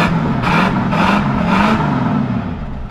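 A 1965 Ford Mustang with a single exhaust revs up three times in quick succession, each burst swelling and falling back to a steady idle, loud and close.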